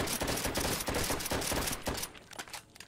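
Rapid automatic gunfire in a Call of Duty video game: a dense, loud burst of rattling shots for about two seconds, then a few scattered trailing shots and fading noise.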